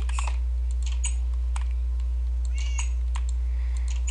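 A cat in a video game gives several short, faint meows scattered over a steady low hum, alongside quick computer keyboard typing clicks.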